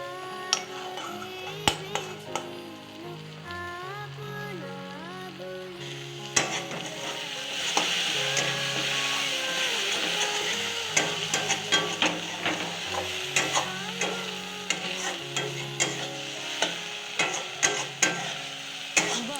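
Homemade paneer with onion fries in ghee with a constant bright sizzle. Close spatula scrapes and clicks come in quick bursts, growing busier toward the end.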